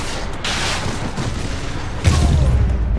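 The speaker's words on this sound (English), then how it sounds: "An explosion just... I saw it." A loud explosion in the video game Marvel's Spider-Man: a sustained rumbling roar, then a heavier booming blast near the end, close and powerful with no talking.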